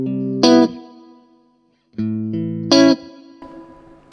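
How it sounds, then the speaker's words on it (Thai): An electric guitar runs through an Orange Crush Pro 60 amp set to plate reverb. It plays two pairs of short, sharp chords close up, and each stab leaves a shimmering reverb tail that decays into near silence. "เราจะเล่นเป็นแบบคอร์ดสั้นๆนะครับเพื่อนๆจะได้ยินเสียงรีเวิร์บชัดเจน"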